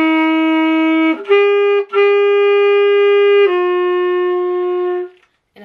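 A saxophone plays a sustained D within an Amazing Grace phrase, starting from a lower held tone before rising and holding steady, close and loud, then cutting off into silence.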